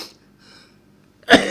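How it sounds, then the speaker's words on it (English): A single loud, harsh cough bursts out near the end of a quiet stretch, close and sudden, from a performer who says he has a terrible cough. "I have a terrible cough"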